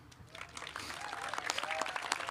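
Audience applause fills a commencement ceremony at Cal Maritime, steady clapping from a large crowd building slightly over a couple of seconds with no voices over it.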